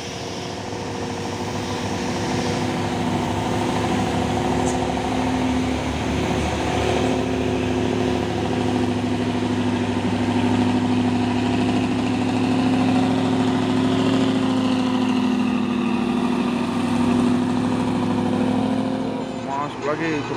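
A 6x4 orange truck grinds slowly up the Bukit Kodok incline in the morning, its engine a steady, loud low drone with a strained tonal hum that holds throughout.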